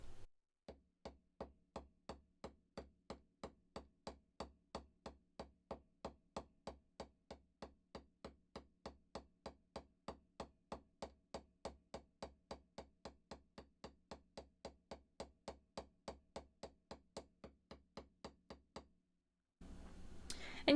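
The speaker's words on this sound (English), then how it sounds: "I'm just dropping the hammer on it and dragging." A metal hammer repeatedly dropped onto wire resting on a steel bench block while shaping a pendant, giving a long, steady series of light, evenly spaced metallic taps, close and alone, ending with a brief handling noise.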